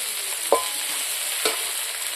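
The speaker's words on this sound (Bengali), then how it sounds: "পেঁয়াজ কুচিগুলো একদম লাল লাল হয়ে গেছে ভাজা। এখন আমি বাটা মশলাগুলো দিয়ে দেবো।" Ground spice paste hits browned chopped onions in a hot pan for a Bengali fish curry. A steady, close frying hiss runs throughout, with two brief stirring scrapes and spatters. No one speaks.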